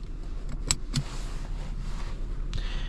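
A seatbelt is buckled inside a 2026 Audi A6 S Line, a few soft close clicks and brief rustling over a low, steady cabin hum.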